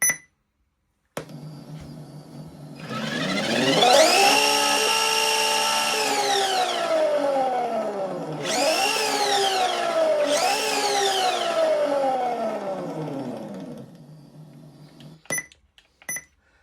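A GT Power RC sound module plays a loud synthetic engine sound, turned up: a steady idle drone, then three rising-and-falling rev sweeps, each throttle blip climbing sharply before easing back to idle, with clicks at the start and end.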